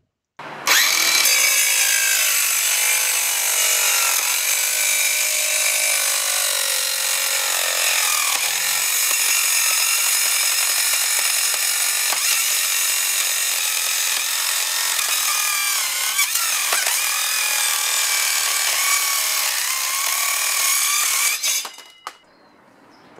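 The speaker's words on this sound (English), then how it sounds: "What you need is a portable metal cutoff saw." A portable metal cutoff saw slices through an old laptop, giving a loud, steady, high-pitched grinding screech that runs almost unbroken for over twenty seconds before it cuts off abruptly.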